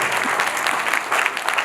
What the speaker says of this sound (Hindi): पूज्य स्वामी आर्यवेश जी महाराज को करतल ध्वनि से जोरदार शुभकामनाएं दीजिए